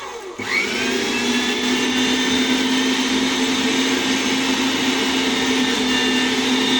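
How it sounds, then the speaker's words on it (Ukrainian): A meat grinder mincing liver kicks in after a brief click, then holds a loud, steady motor whine with a grinding hum that runs on alone without pause. "Перекручую печінку на м'ясорубці."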